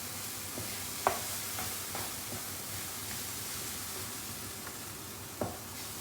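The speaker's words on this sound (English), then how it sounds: "Now I'll reduce the fire. Stir for a few seconds." Food is stirred in a pan over a lowered flame on a home stove, giving a few clinking scrapes over a steady, gentle sizzle.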